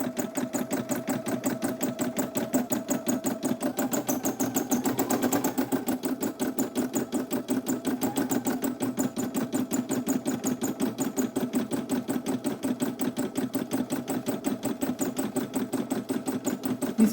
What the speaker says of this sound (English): So now we're going to start embroidering this one, okay?